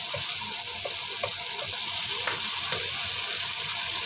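Marinated chicken sizzles in a pan with lemongrass and peppercorn, giving a steady, close frying hiss with faint scrapes of stirring throughout.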